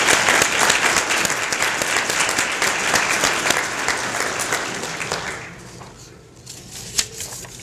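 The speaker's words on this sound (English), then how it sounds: "let's give a very special round of applause to our elected officials" An indoor audience at an employee service awards event gives elected officials a sustained round of clapping, full and dense at first, then thinning out and fading away to a few scattered claps.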